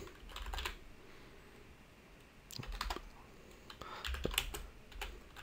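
A console command is typed on a computer keyboard in a few quick, soft clusters of keystrokes separated by short pauses, close and quiet.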